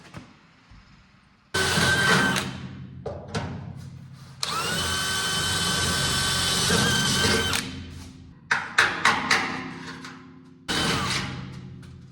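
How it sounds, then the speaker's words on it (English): A power drill whirs in several bursts while drilling holes for a car fender bracket, short pulses and one long sustained run, with quiet pauses between, close and loud. "I just have to drill these holes in up here."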